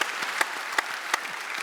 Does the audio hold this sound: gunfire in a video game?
no